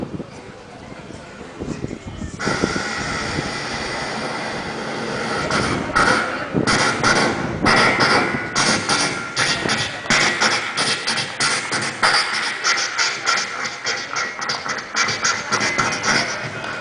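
At a school mimicry performance, a voice imitates a train pulling away after a railway announcement. Rhythmic chugging bursts start abruptly and grow steadier and quicker, loud and close to the microphone.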